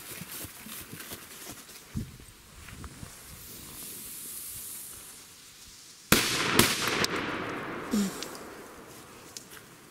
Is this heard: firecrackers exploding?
yes